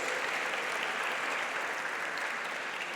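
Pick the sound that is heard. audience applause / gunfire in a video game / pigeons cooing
audience applause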